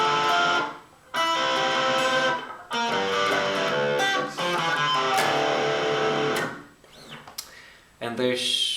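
Distorted electric guitar playing the intro riff of a song in drop D tuning, with loud chord bursts in a choppy rhythm broken by short silent gaps.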